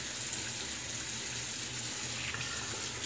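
A water tap runs steadily at a bathroom sink while a razor is rinsed during a wet shave, a continuous close hiss with no voices.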